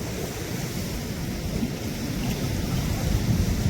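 Fast-flowing water at a reservoir, a continuous broadband rush with wind buffeting the microphone, steady and fairly loud.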